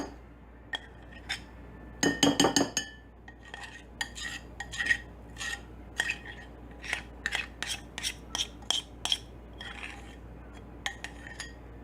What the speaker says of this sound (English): I'm gonna put all this batter in here.